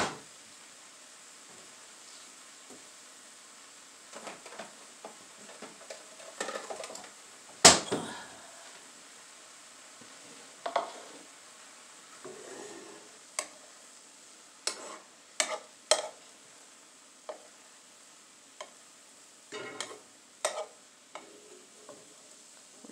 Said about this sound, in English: Just going to scoop that out into a little bowl.